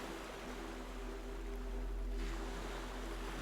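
Soft ocean waves wash in a faint, steady, continuous murmur, with a low hum beneath and no distinct breaking crashes.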